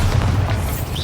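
The Bombarda blast spell in Hogwarts Legacy goes off as a loud, close, low booming explosion with a rumbling burst that fills the whole brief moment.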